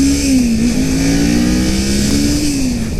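A 2018 Kawasaki Ninja 400 motorcycle engine revving while riding on the road, a loud, steady mid-pitched drone that rises and dips slightly under constant wind rush.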